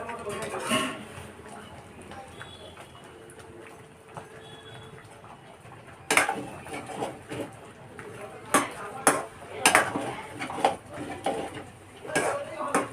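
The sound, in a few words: lifting the lid and stirring prawn chicken biryani in a pot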